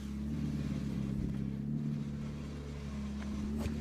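A rally car waits at a forest stage of the Grampian Forest Rally, its engine idling with a misfire. It makes a steady, fairly loud low drone with slight unevenness, and no one speaks.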